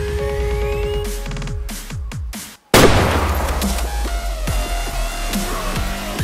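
A rifle fires in a whitetail hunting game, a sudden loud crack after a brief silence, followed by a long ringing, echoing tail over game music.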